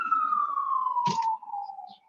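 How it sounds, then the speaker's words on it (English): Ambulance siren passing on a Boston street, a long, steady wail that slowly falls in pitch as it drives by, loud and near, with a brief burst of traffic noise partway through. "I apologize for the ambulances driving by."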